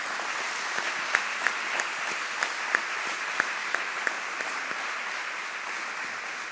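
Sustained audience applause at a 25th-anniversary celebration for Radio Maria France, a steady bed of clapping with several louder, sharper claps popping out near the listener at irregular intervals.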